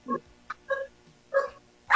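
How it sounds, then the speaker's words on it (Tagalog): A pet puppy gives several short yips and barks spaced through the moment, moderately close, with quiet gaps between them and no talking over them. "mga aso po yun, sir. Aso. Tumatahol, oh. Tuta. Alaga ko."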